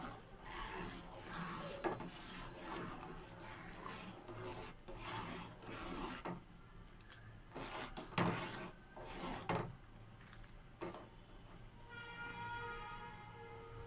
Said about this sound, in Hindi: 1 चम्मच दूध में इसको मिक्स कर लिए अच्छे से, इसमें डाल देंगे,